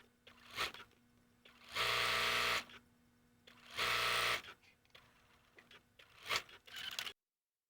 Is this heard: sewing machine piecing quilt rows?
yes